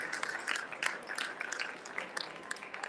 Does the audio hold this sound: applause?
yes